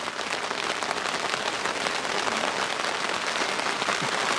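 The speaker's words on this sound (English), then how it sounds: "Well, it's raining." Steady rain falls outdoors at a carp fishing spot in mid-November, a dense, even patter of drops at constant loudness throughout, with no one speaking.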